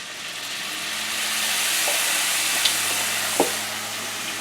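Broth poured into a hot pan where mustard is cooking sets off a steady, fairly loud sizzle and frying hiss, with a couple of brief clinks near the end.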